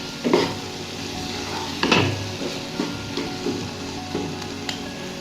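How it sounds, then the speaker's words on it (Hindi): Egg khagina mixture frying in oil while being stirred, with a steady close sizzle broken by several scraping knocks of a spoon against the pan, no voices. "इसको अच्छी तरह भूनना है, अच्छी तरह भूनते जाएं बहुत मज़े से"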